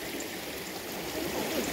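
Cold forest stream of drinkable water flowing in the woods, a soft continuous rushing trickle heard faintly and steadily for a couple of seconds, with no voices.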